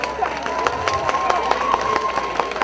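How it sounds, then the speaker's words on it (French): An audience claps for singers at a Relais pour la vie charity event, brisk, close, fairly loud clapping with crowd noise and a steady tone running underneath. "On les applaudit plus fort que ça quand même"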